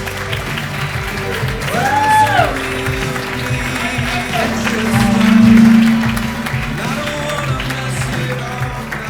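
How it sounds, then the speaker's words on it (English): Applause from the audience at the Shropshire, Telford & Wrekin Apprenticeship Awards, a loud continuous wash of clapping with some voices and tonal sounds mixed in, swelling midway. "Give him a round of applause."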